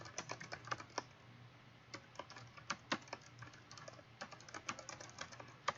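Someone types into a document on a computer keyboard, close by: quick, irregular bursts of crisp keystrokes with short pauses between them. No one speaks.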